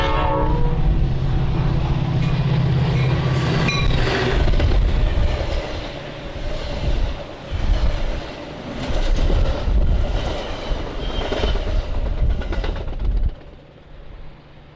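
BNSF westbound repositioning train move passing on track 3 of a busy triple-track main line, opening with a loud sustained horn blast, then rumbling, clattering wheels and cars rolling by before the sound cuts off abruptly.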